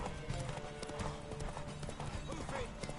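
A horse gallops in a race in the video game The Witcher 3: Wild Hunt, with quick, steady hoofbeats drumming beneath game music and background sound, and a voice speaking over it.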